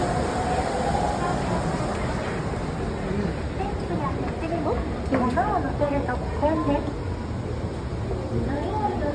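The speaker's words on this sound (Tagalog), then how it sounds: "Bye-bye train!" A train passes at Omiya Station in Japan with a continuous rumbling, rolling roar amid station ambience, while people talk over it at close range.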